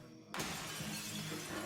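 A glass door shatters in a movie scene, a sudden loud crash that bursts in and then sustains a dense, bright spray of breaking glass fragments with no talking.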